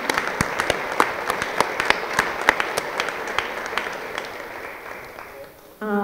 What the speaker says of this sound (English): So I'd like to applaud that